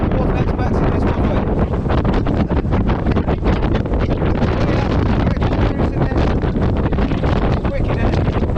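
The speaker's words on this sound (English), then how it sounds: "I've got to apologise for the wind today." Strong wind buffets the microphone on the rocky edge of Stanage Edge in the Peak District, a loud, constant roaring rumble with gusty fluctuations throughout.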